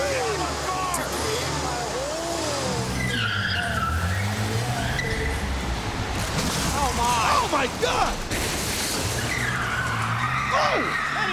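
A stretch limousine tears around wildly in a wrestling-show segment, tires squealing in repeated skids over a steady engine roar, while people shout in alarm over the commotion.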